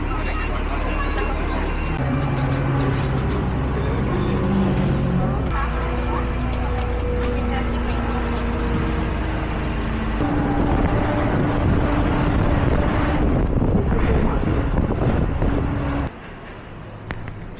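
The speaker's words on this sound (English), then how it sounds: "So I'm going to get on the bus and see what that's about." Interior of a tourist bus riding through Curitiba, Brazil: a continuous low engine drone and road rumble with wind buffeting and faint background chatter, ending with an abrupt drop in level near the end.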